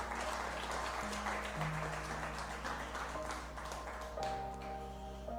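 Church congregation clapping along in rhythm, dense steady hand claps over sustained music tones and a low hum, continuous throughout, with no speech.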